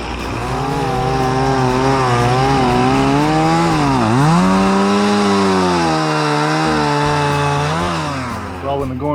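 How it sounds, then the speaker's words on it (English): Two chainsaws cutting fallen trees on a trail, a loud close engine drone that bogs down and revs back up as the chain bites into the wood, continuous throughout. "We got 2 chainsaws."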